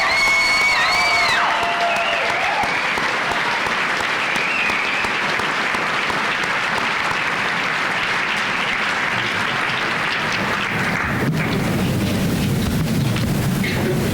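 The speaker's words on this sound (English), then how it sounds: "please rise and accept our heartfelt applause" Loud, sustained audience applause fills a high school commencement hall as graduates' parents are honored, a dense steady roar of clapping with some cheering that continues for about eleven seconds before fading.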